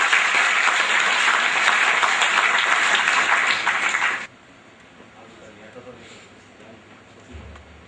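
Audience at a stage event applauding as guests are welcomed, a full burst of many hands clapping that cuts off abruptly, leaving quiet room tone with faint voices.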